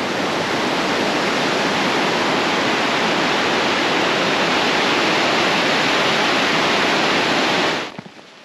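The Brule River rushes beneath a bridge in a state park, a loud, steady broadband roar of flowing water that continues unbroken before cutting off near the end.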